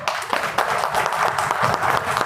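Clapping from the audience at a Hindi comedy poetry gathering, dense and steady with a few sharper individual claps standing out, loud and close throughout.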